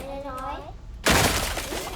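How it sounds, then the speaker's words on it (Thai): Glass shatters loudly from a bomb blast in the video game Grounded: a sudden bright crash that spills into a spreading, rattling hiss of breaking shards, following a stretch of someone talking. "กระจกแตก"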